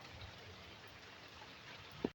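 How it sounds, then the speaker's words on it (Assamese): Heavy rain falls around an auto-rickshaw in Guwahati as a steady, fairly faint hiss, with one short thump near the very end. "জোৰে বৰষুণ দি আছে।"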